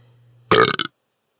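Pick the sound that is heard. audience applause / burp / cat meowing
burp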